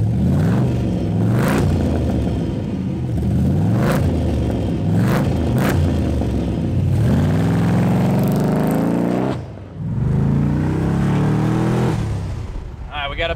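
A supercharged Corvette C4 engine of about 500 crank horsepower revs in repeated quick throttle blips, loud and close, with rising and falling whine over a steady rumble.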